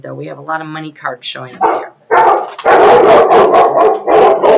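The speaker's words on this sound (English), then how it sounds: "So please excuse the dogs going nuts." Dogs bark excitedly and loudly in a near, continuous burst of overlapping barks, first under someone speaking, then filling the rest of the clip as they go nuts at someone passing by with a baby stroller.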